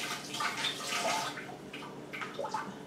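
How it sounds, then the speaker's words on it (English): Tap water running from a faucet as hands are rinsed in a kitchen while making lentil burgers, a soft steady splashing and gurgling stream heard close with no talk. "let me just give my hand a quick rinse"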